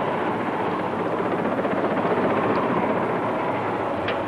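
A helicopter flying over the sea gives a steady, loud roar of rotor and engine that continues unbroken with no voices.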